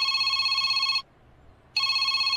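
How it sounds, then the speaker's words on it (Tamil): An incoming call sets a telephone ringing in a Tamil TV drama scene. A loud, bright electronic ring sounds for one second, stops briefly, then starts again, with no voices over it. "என்ன இது, கிளாஸ் டைம்ல ஃபோன் பண்றா?"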